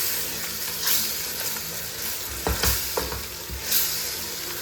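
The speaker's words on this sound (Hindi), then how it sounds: "तो बस इस मसाले की मैं थोड़ी सी भुनाई करूँगी।" Spice masala roasting in a pan for aloo gobhi paratha filling, a steady broadband sizzle broken by several sharp scraping stirs of a spoon against the pan, close and moderately loud with no voices.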